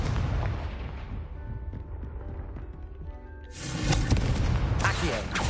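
The Confringo blasting spell goes off in the video game Hogwarts Legacy, a heavy rumbling explosion with deep booms and a crackling burst that grows louder toward the end, while a voice is heard.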